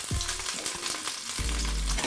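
Ahi tuna sears in a hot pan, giving a loud, continuous sizzle and crackle with a couple of sharp hissing bursts as the fish shifts.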